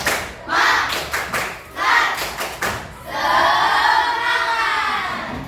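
A school class performs the tepuk semangat, a rhythmic group clap: quick bursts of clapping with chanted voices between them, then everyone shouts together loudly at close range.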